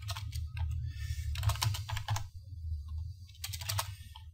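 Keys clack on a computer keyboard in quick, uneven bursts with short pauses in between, close and clear, with no talking.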